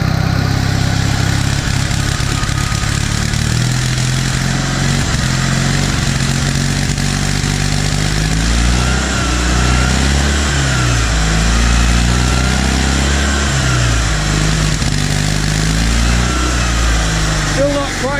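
A repaired engine running again but still slightly rough, idling steadily close by with a continuous low throb and faint revving changes, with a voice talking over it at times.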